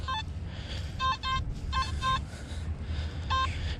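A Nokta Makro Simplex metal detector sweeps over concrete rebar near a court, giving a string of sharp, tonal beeps in short bursts and pairs over a steady low outdoor rumble, fairly faint overall.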